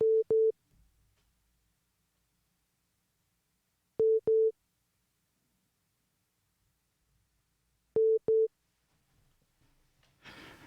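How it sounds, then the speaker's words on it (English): Cell phone call-waiting beeps sound during a call, arriving as three loud pairs of short, steady tones spaced about four seconds apart over near silence. "when a call comes into my cell phone, it's beeping in the background"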